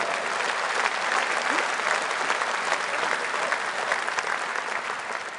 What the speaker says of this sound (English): Got a round of applause.